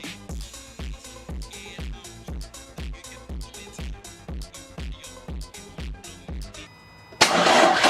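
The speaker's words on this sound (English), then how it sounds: "we're going to see if we can get this started" A Vauxhall Corsa turbo engine being cranked, a steady rhythmic starter churn repeating for about seven seconds before the engine catches and fires into a loud roar, close up.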